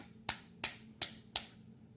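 Four sharp, evenly spaced hand claps ring out close and alone during a Korean Sunday church worship service sermon, with quiet between each clap.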